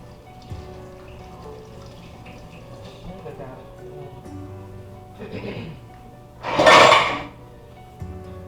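A metal pan is pulled out among pots and pans in a home kitchen, with scattered soft knocks, then one loud clanging clatter and a final thump, while someone talks quietly in the background.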